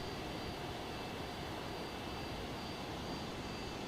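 A fast airplane sweeps past in a video game flyby, producing a loud, steady broadband roar for about four seconds with no voices over it.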